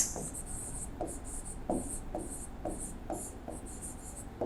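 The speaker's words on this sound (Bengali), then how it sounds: "এখানে রিজনটা কি সেটা আমি লিখে দিচ্ছি" Pen or marker writing on a board during a maths lesson, with short repeated scratchy strokes in a steady rhythm, close and fairly soft, and no voice over it.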